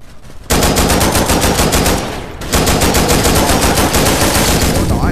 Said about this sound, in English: Damn it, I can't reload fast enough with the Uzi.